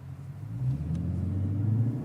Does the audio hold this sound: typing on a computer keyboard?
no